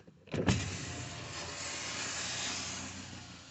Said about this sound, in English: we want to roll the window down